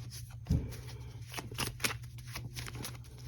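Quiet riffling of a deck of cards being shuffled, a soft burst of flapping paper close by with a thump at the start, no voices.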